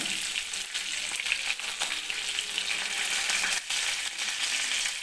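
Fish pieces frying in hot oil, a steady dense crackling sizzle with scattered pops, close and continuous, no talking.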